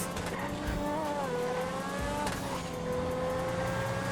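Grotti X80 Proto hypercar in GTA 5, inspired by the Ferrari FXXK and all-wheel drive, with a loud, high engine whine that rises and dips through gear shifts and brief tire squeals, continuous and close with no talk.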